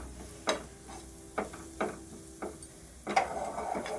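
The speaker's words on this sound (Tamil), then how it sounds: "எண்ணெயில் போட்டு வதக்கிட்டோன்னா இது கொஞ்சம் வதங்கட்டும்." Spices sautéing in oil for pepper rasam, a low steady sizzle broken by several close scraping stirs of a spoon against the pan, fairly quiet, with no talk.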